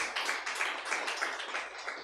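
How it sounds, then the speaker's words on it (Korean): Applause from a church congregation at a healing camp service, a moderate crowd clapping in a fairly even patter, steady and somewhat distant across the whole span. "억지로 박수 치는 분들이 있는데"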